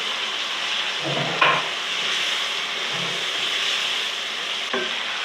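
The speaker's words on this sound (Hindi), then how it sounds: "मैं इसमें चिकन डालूँगी। चिकन को भून लूँगी।" Chicken pieces fry in a spiced masala with a steady broad sizzle and hiss, broken by a few scraping stirs of a spoon in the pan.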